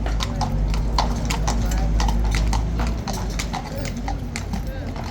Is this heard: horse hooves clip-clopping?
yes